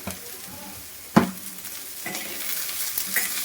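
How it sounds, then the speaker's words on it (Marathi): Onion frying in a pan on a home kitchen stove, salted to brown, with a steady close sizzle broken by a sharp clatter of stirring about a second in, then continued frying and scraping. "छान ब्राउनीच करून घ्यायचा कांदा तर कांदा छान ब्राउनी झालाय"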